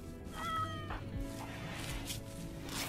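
A cat meows a few times in the RimWorld video game, short tonal calls at moderate level over a busy game soundscape, with no talking.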